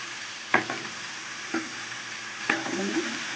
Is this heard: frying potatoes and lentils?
yes